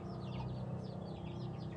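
A laying hen gives soft, repeated clucks at a steady, moderate level, backed by a constant low farmyard hum, with no voices heard.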